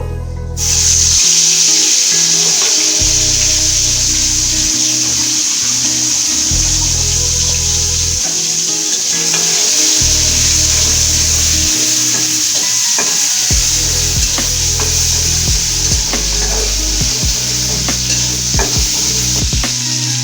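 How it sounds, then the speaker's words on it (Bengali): Prawns sizzle steadily in hot oil in a wok, a loud continuous frying hiss lasting throughout, with occasional stirring clatter and no talk. "তেলটা গরম হয়ে গেছে, আমি এখন চিংড়ি মাছটা ভাজা নিব।"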